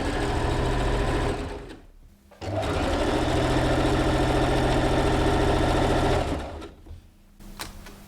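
A sewing machine stitches a t-shirt neckband in two long steady runs of continuous motor whir. The runs are broken by a short pause and end with brief stops and small mechanical clicks as the fabric is repositioned. No one speaks.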